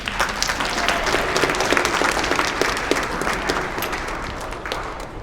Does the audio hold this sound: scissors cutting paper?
no